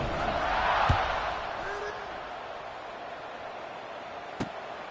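Steady stadium crowd roar at kickoff in College Football 26, Florida against LSU, a broad wash of noise swelling in the first second and then holding at an even level, with a sharp thud near the start and another near the end.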